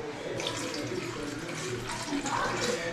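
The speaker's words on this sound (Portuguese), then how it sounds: "no liquidificador e vou colocar água de coco" Coconut water poured into a blender jar over mango, a steady splashing trickle of liquid, close and continuous for a few seconds.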